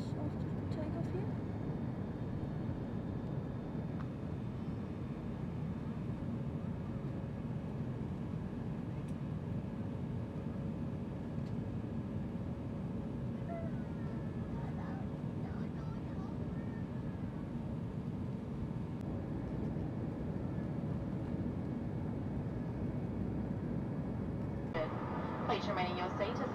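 Inside the cabin of a Qantaslink Airbus A320 in flight over outback Australia, a constant low engine and airflow roar drones evenly throughout, broad and unbroken.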